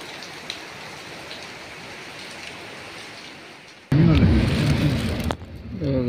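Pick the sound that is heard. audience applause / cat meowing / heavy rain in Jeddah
heavy rain in Jeddah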